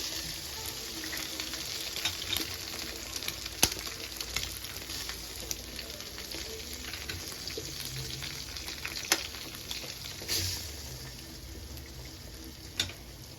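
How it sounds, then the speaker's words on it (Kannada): Four eggs fry in a pan for egg rice, giving a steady close sizzle with occasional faint clicks and no talk. "ಇದಕ್ಕೆ ಮೊಟ್ಟೆ ಹೊಡೆದಾಕ್ತಾ ಇದ್ದೀನಿ. ನಾನು 4 ಮೊಟ್ಟೆ ತೊಗೊಂಡಿದ್ದೀನಿ."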